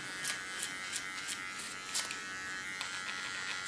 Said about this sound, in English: Small hair, I shave off.